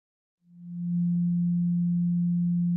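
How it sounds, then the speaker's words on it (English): A pure 174 Hz solfeggio sine tone fades in smoothly and then holds as one steady, deep, unwavering hum, loud and alone with no other sounds. "Here is the 174 Hertz frequency"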